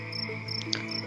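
Crickets chirping at night near rice fields in a quiet village, a steady high trilling pulse with a sustained lower drone, short and continuous with no voices.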